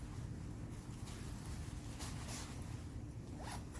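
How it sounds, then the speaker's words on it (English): Zippers on a Clark NX-270 camping hammock's bug net and weather shield are pulled, giving several quick raspy zipping strokes close up over faint outdoor wind noise. "I'm gonna zipper up"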